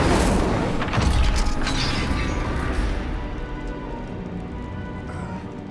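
An Incendio fire spell from Hogwarts Legacy bursts out as a loud, close roaring blast with crackling flame that slowly fades over several seconds, no talk over it.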